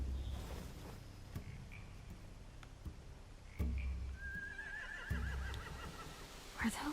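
Horses neigh in The Walking Dead: The Telltale Definitive Series, Season 4; a rising, wavering whinny stands out midway over low ambient rumble, with muffled thumps around it.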